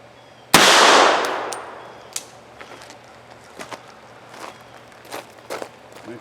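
One loud gunshot fired into ballistic gel with a powder-coated bullet, a sharp close blast with a decaying tail, followed by scattered faint clicks and handling noises.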